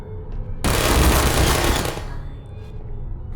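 Gunfire in the video game Athena Saibo: a dense, loud burst of rapid automatic shots lasting about a second and a half, then fading into quieter background noise.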